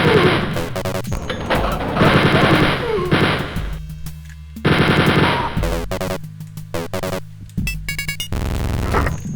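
Rapid, loud video game gunfire fills most of the span in dense automatic bursts broken by brief pauses and scattered single shots, with clattering impacts and game effects layered in, in a tactical shooter.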